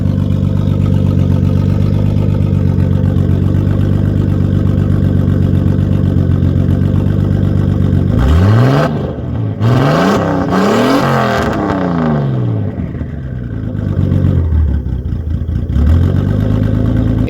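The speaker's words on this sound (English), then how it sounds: "But I'll give you another little rev." A boosted Bajabenz engine idles with a loud, steady drone, then is blipped through two quick revs that rise and fall sharply, followed by a shorter rev near the end, all close and alone.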